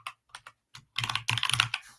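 Code typed on a computer keyboard, a few sparse keystrokes followed by a rapid close flurry of clicks.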